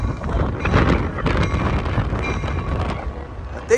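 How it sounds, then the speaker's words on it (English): Strong wind buffets the microphone at Emeryville Amtrak station in California, a steady loud roaring rumble that continues throughout with no talk. "It is windy as heck over here."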